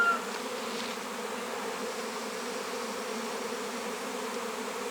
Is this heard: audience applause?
no